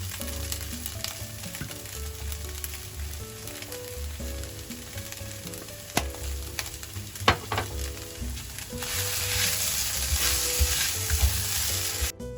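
Food sizzles steadily in a hot pan with occasional stirring scrapes and clinks, the frying growing louder and hissier toward the end, while making Spam turnip cake.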